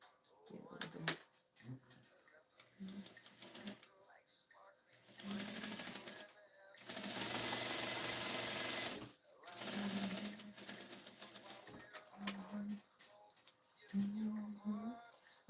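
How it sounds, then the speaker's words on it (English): A sewing machine stitching dress fabric in several bursts, including one long steady run in the middle, close and loud, with a person talking between and over the stitching. "I'm stitching this to use it as a guide to press under the right amount."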